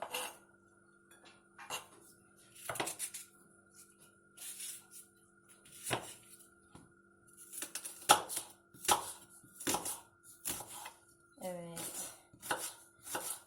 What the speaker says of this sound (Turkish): ben bu soğanları doğramaya devam edeyim